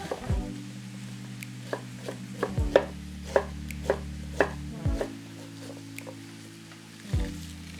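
A kitchen knife slices cabbage into long strands on a cutting board, making a run of crisp, uneven chops at close range over a low steady hum, with no talking.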